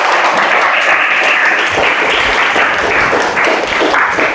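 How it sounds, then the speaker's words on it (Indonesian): Audience applause for Bronkus, the winning group, steady and loud clapping from a crowd filling the whole stretch without a break. "Beri aplaus."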